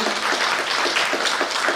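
A short burst of crowd applause at a mushaira poetry gathering, dense clapping filling the moment, with no talking.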